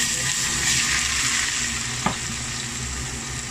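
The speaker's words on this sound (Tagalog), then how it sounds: "ilalagay ko yung boiling oil" Boiling oil hits an oyster dish with a loud, close, continuous sizzle and crackle that holds steady throughout, with one small knock partway through and no talking.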